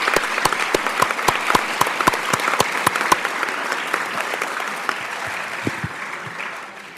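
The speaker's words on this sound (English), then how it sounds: "Let's give these folks a round of applause." A school board meeting audience claps in a brisk round of applause that starts strong and gradually thins out and fades toward the end, with sharp individual claps audible in the room.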